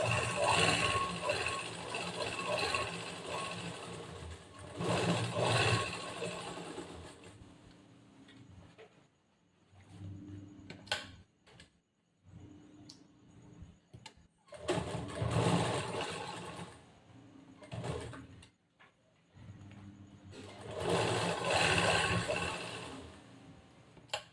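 A sewing machine stitches a cross-cut blouse in three loud, steady whirring runs close by. Quieter pauses with a person talking fall between the runs.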